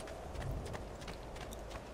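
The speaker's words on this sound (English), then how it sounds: "I don't remember how good the horse riding was," Horse hooves clip-clop steadily in Assassin's Creed 2, a continuous trotting patter over a dense game background with no talk.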